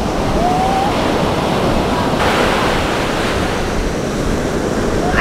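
Sea waves wash steadily onto the shore close by, a continuous loud rushing surf with wind buffeting the microphone.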